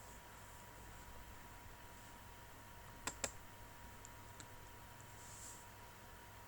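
A couple of quick computer mouse clicks close together while working in Proteus software, faint and alone over a steady background hiss, with a few softer ticks afterward.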